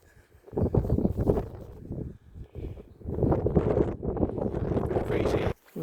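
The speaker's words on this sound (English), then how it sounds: "A gust of wind there" Wind gusts across open hillside moorland near a village in South Devon, a loud rumbling buffet that roars against the microphone for several seconds.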